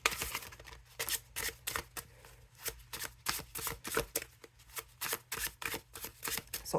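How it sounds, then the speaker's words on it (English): Tarot cards from the Aurora Tarot Blue Edition deck, with fresh paper stock, are shuffled by hand, both overhand and riffle style, giving close, crisp repeated bursts of card slapping and flutter in an uneven rhythm, with no talk. "So overhand, riffle shuffle"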